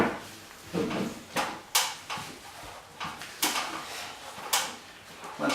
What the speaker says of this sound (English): just sliding the bulkhead into place